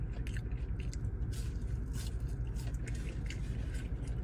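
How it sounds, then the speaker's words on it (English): Crispy British fries are bitten and chewed up close, a steady soft crunching and munching that continues throughout without speech. "Let me taste these fries."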